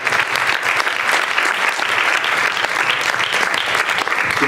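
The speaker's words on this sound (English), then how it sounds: "Let's give our panelists a big round of applause." An audience at an alumni panel gives the panelists a steady, dense round of applause that stays loud and even throughout.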